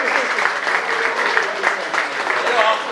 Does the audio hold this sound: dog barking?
no